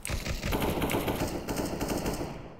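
Rapid gunfire in the video game CS:GO, a dense continuous automatic burst filling the clip, loud and close with no pauses.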